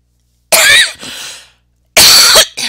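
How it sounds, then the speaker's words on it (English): Two loud, harsh coughing bursts close to the mic, the first a double cough trailing off, then another strong cough after a brief pause, with no talk between them. "I'm dying of a coughing fit"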